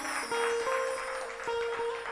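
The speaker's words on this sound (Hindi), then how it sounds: "ताली बजाओ मां के लिए" A crowd claps steadily throughout at a Hindu devotional discourse on the Santoshi Mata Friday fast story, with faint ringing tones over the applause.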